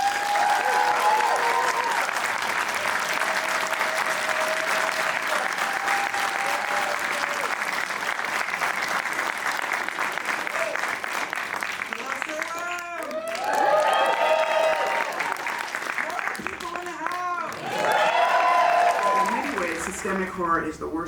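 A horror festival audience applauds steadily as a keynote speaker is welcomed, sustained clapping over its whole length, with a voice speaking through part of it.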